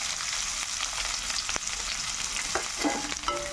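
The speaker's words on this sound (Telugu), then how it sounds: "కొంచెం వేగాలండి, ఇది కొంచెం కలర్ మారాలండి" Sliced onions and green chillies frying in about two spoons of oil for a chicken fry, a steady close broadband sizzle with occasional stirring clinks and scrapes, no talking.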